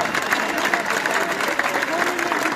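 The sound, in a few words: applause for the band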